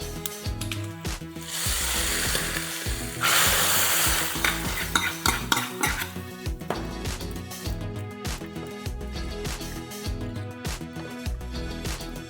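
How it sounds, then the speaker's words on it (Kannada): Hot tempering is poured into a pot of sambar, bursting into a loud sizzle that then settles into steady frying crackle while a spoon scrapes and stirs against the pan in repeated strokes. "ಈ ಒಗ್ಗರಣೆಯನ್ನು ಈ ಸಾಂಬಾರಿಗೆ ಹಾಕಿದ್ರೆ ಆಯಿತು"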